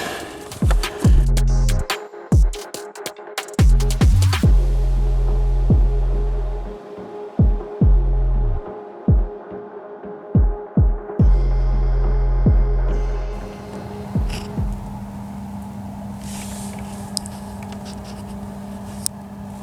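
Car cabin blower fan with badly seated cabin filters, humming loudly with repeated low throbbing pulses and knocks before settling into a steady drone.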